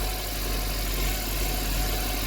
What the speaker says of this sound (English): let's see if the engine is still shaking